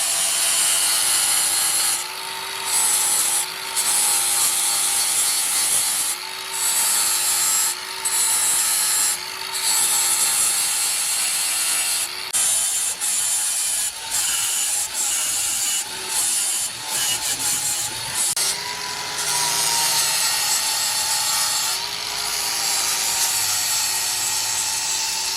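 Angle grinder clearancing metal parts on a Colorado drag truck build, a loud continuous whine that rises and dips in repeated bursts with brief pauses, close up and alone with no talking.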